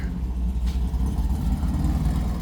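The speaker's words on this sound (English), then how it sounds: "that's Jacob's oval that you're hearing there" A vintage Volkswagen Beetle oval-window car runs nearby, its air-cooled engine putting out a steady, moderately loud low rumble that holds throughout without any talk.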